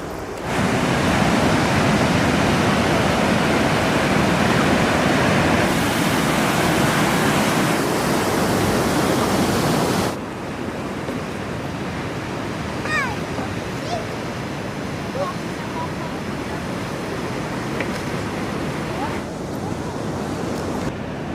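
Loud, continuous roar of crashing North Sea surf and breaking waves on the Cleveland Way coast near Staithes, then a softer wash of ocean water with faint high bird-like chirps.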